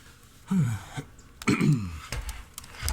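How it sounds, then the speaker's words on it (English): A person clears their throat with a couple of rough, harsh coughing bursts, close and fairly loud, with short pauses between. "Still have a little bit of a cough."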